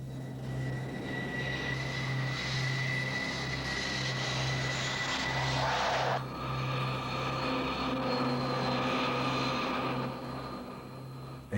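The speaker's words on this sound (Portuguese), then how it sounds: "O versátil McDonnell Douglas FA-18 Hornet é hoje a mais importante aeronave de assalto da frota americana" A McDonnell Douglas F/A-18 Hornet jet, a US Navy carrier assault aircraft, drones with a steady engine roar and whine. The sound shifts slightly midway and carries on without any talk.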